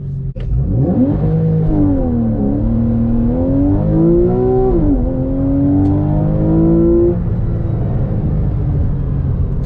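A Porsche 911 Carrera S with a 395 hp engine pulls hard from inside the cabin, its loud engine note climbing through several gears with rising and falling harmonics and brief shift dips.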